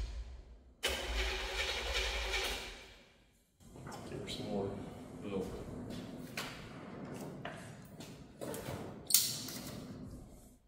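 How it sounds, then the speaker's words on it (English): A truck engine cranks and fires up with a loud burst, then settles into a rough running rumble, with people talking nearby as it idles. "Heard a truck fire right up."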